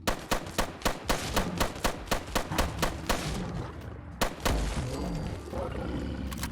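A modded AR rifle in Fallout 4 fires about fourteen rapid semi-automatic shots at a Deathclaw, each crack sharp and evenly spaced, then a few more shots follow amid a rumbling, growling creature sound.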